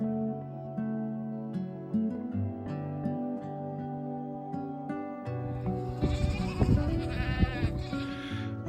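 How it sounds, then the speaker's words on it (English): Goats on a rocky karst hillside near Mullaghmore in the Burren bleat repeatedly on an evening walk. Their calls come close and loud, overlapping toward the end into a busier chorus of several animals. "I can't get past these goats just to take a photograph of them"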